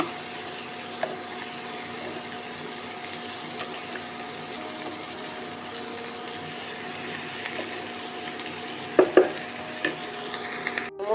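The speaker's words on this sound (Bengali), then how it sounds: "দিয়ে একটু নাড়তে থাকবো যাতে সবজিগুলো একটু হালকা ফ্রাই হয়ে যায়।" Chopped beans and mixed winter vegetables are lightly stir-fried in a pan for a chicken thukpa soup, giving a soft, low sizzle with gentle stirring scrapes and a few louder utensil clatters near the end.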